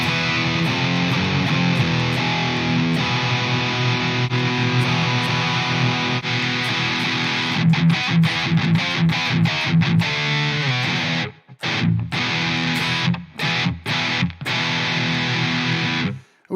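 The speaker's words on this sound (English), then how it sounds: "We've got distortion up here as well, so we can pump the shit out of this distortion." Heavily distorted electric guitar played through a Nembrini MP1 Pro amp simulator on iOS gives a thick, saturated, black-metal-style tone, sustained riffing that later breaks into choppy palm-muted stabs with abrupt silences between them.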